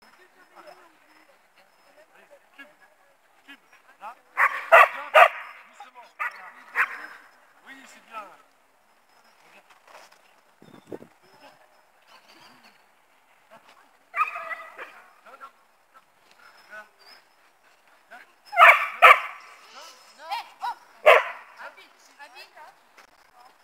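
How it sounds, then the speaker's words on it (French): A dog barks and yips in several short bursts, separated by quiet gaps, with a person speaking briefly between them. "Aboyer c'est non."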